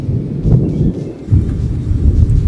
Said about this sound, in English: Oh my gosh, thunder.